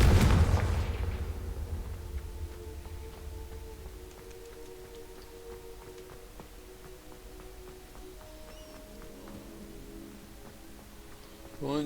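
The Confringo fire spell from the video game Hogwarts Legacy bursts with a loud blast at the start, then its deep rumble fades into a long low droning tail with sustained tones and scattered faint clicks; no one speaks.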